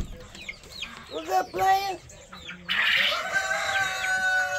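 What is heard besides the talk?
chickens clucking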